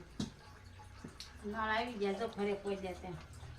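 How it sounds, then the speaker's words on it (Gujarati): Water running from a tap into containers at a home, a steady splashing fill heard close, with people talking over it. "પાણી આવતા વેત પાણી તો ભરવું જ પડે"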